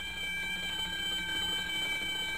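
Audible alarm of an oil discharge monitoring control system, a steady electronic tone with several sustained pitched harmonics, held unbroken and fairly loud before cutting off abruptly.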